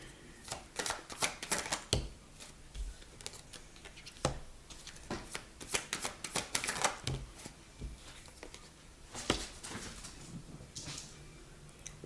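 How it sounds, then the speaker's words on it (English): A deck of cards is shuffled close up in a quiet room, giving repeated crisp riffling bursts and sharp snaps at irregular intervals over about twelve seconds. "I wonder if y'all heard her shuffling"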